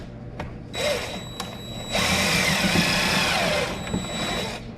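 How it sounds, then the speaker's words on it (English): A power drill bores an angled hole into wood while a workbench is built, in three bursts of whining motor and grinding bit. The bursts are short then longer, separated by brief pauses, close and loud. "I'm not going to drill through, and then I'm going to drill up at an angle."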